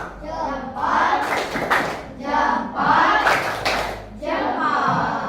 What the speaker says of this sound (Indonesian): tepuk jempol untuk Tiara